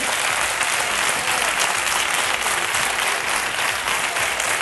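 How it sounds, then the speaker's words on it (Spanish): A television studio audience applauds steadily for several seconds, a thick continuous wash of clapping with no voices over it. "Vamos a darle un aplauso"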